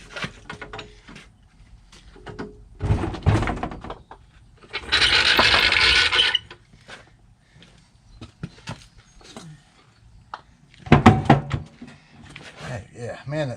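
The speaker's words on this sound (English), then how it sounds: "Let the jack down." A floor jack being lowered under a Yamaha Rhino side-by-side, giving mechanical clunks and a sustained hissing release in the middle, with people talking nearby before and after.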